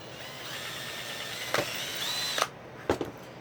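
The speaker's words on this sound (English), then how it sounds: "so I'm not just drilling randomly" Power drill boring marked holes in a cast droid head, a steady whining motor hum with a few sharp bursts and clicks as the bit catches and stops, close and fairly quiet.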